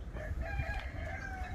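White wild chickens cluck and a rooster crows nearby in a short burst, the calls overlapping against a low background rumble.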